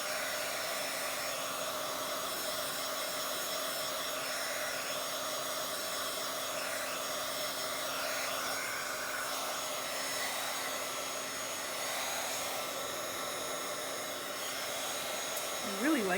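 A hair dryer blows steadily over a Bible journal page, a close, continuous whooshing drone with a faint tonal whine that holds unbroken, then ends in a brief shift.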